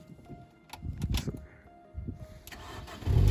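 Starter cranks briefly, then a Mini Cooper's cold engine catches and settles into a loud, steady idle close by.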